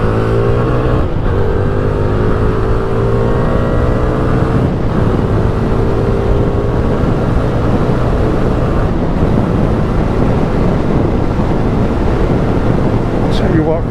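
A Hyosung Aquila GV300S 300cc cruiser motorcycle hums steadily while riding along a road, its engine drone constant and close, with engine pitch rising gradually, under continuous wind rush.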